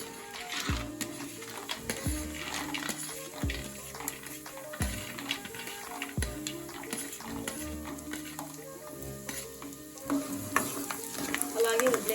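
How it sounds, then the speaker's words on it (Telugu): Peanuts frying in hot oil for lemon rice, a continuous crackling sizzle with regular stirring scrapes recurring about every second and a half, close and fairly loud, no speech. "ఆయిల్ వేడైన తర్వాత ముందుగా పల్లీలు వేసుకోవాలి"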